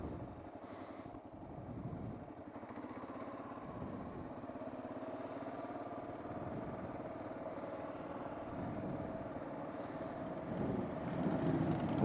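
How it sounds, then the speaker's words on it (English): A group of motorcycles rumbles steadily in the mid-distance at Mt Maunganui, New Zealand, with a continuous engine drone that swells slightly louder toward the end. "Oh, the bikies are coming around again."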